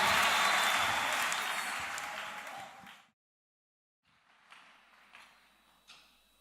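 A church congregation applauding, a dense wash of clapping that fades out, then after a brief silence a few scattered claps and knocks.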